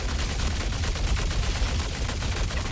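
Fresnel Volt LMG firing in a sci-fi shooter game, a continuous rapid stream of loud energy-weapon shots with no break.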